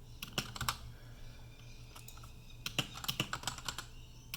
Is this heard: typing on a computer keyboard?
yes